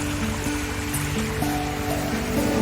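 Water runs down a long stream in a Lanipao rainforest in the Cebu City mountains, a close, constant rushing babble with no pauses and no voices.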